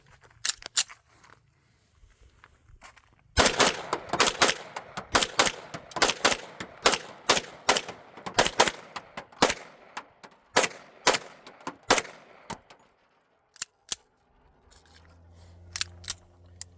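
Rapid handgun shots from a compensated Springfield Prodigy pistol, a long string of sharp close reports in quick bursts with brief pauses between strings, loud and alone without talk.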